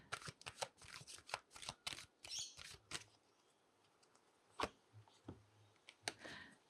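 Tarot cards shuffled and drawn from a deck at close range, quick papery flicks and riffles in short bursts, then quieter scattered card snaps, soft and with no talk.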